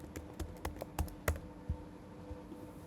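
Fingers tap a computer keyboard, typing a question about the knapsack problem into the Gemini chatbot. The keystrokes are close and crisp, come in irregular bursts and then thin out to a few isolated taps over a quiet background.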